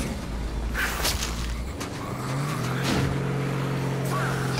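A car engine grows louder as it approaches in the game H1Z1, a steady low drone rising in volume amid game noise, with no talking.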